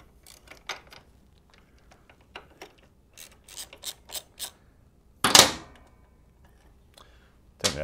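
A wrench loosening the bolt on a Harley Sportster regulator/rectifier: a string of short, faint ratchet clicks and rasps, then one louder metallic scrape near the end, in an otherwise quiet setting.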